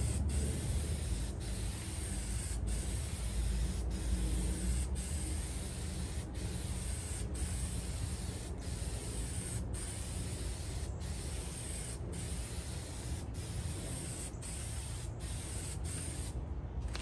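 Continuous hiss of a spray paint can coating a 1950s Craftsman wall-mounted tool cabinet, steady and close for the whole stretch, broken by faint regular ticks, with no voices.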